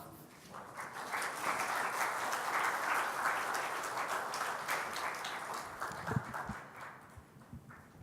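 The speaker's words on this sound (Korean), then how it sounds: "우리 강사님 나오실 때 박수로 환영하겠습니다." A church congregation applauding to welcome a guest speaker at a Friday worship service: steady mid-distance clapping that builds, holds for several seconds, then thins out with a few scattered claps.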